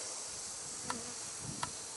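Honey bees at an opened hive holding capped and uncapped honey give a faint, steady buzzing hum beneath a broad hiss. Two light clicks punctuate the drone.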